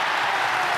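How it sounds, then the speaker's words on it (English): A crowd at a bowling event, the 2007 Weber Cup Europe versus USA team match, erupts in a dense burst of cheering and applause. It is brief, loud and continuous. "the crowd go absolutely ballistic"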